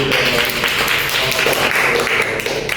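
An audience at a school or community presentation breaks into clapping, a loud, dense patter of hands that carries on briefly with some voices mixed in.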